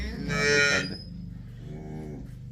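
A cow moos loudly and nearby, then lets out a second, softer and longer low moo.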